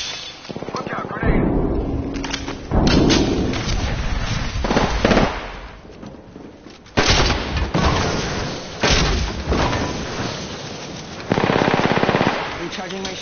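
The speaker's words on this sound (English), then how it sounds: "Yeah, I'm getting shot at." Video game gunfire with dense, loud, continuous bursts of rapid shots and blasts, with a voice talking over parts of it.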